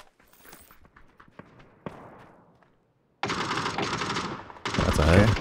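Bursts of AUG assault rifle fire in PUBG, a battle royale shooter, with sparse clicks and footsteps first, then two long loud volleys of automatic gunfire in the closing seconds.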